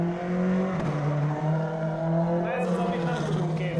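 A Subaru WRC S7 or S12 rally car pulls hard on a track, its engine holding a steady loud drone with rising pitch under power, heard from inside or close by, with some tire noise near the end.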